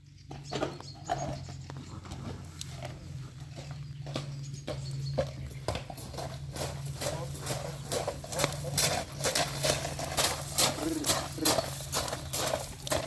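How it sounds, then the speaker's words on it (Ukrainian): Steady clip-clop of a Percheron stallion's hooves on a hard surface, a regular rhythm growing louder as the horse walks close by, with a low hum underneath, in rain. "Я йду виводити жеребця."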